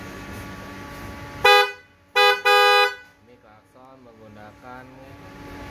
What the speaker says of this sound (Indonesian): Klakson Vogon dari Jerman.